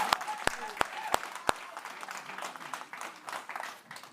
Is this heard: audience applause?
yes